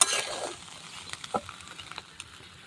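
Cooked soybeans are being stirred in a pan for a dry soybean dish made with drumstick-leaf powder, giving a brief sizzle at first and then a few soft, scattered scrapes and taps of the spoon, fairly quiet and with no voice.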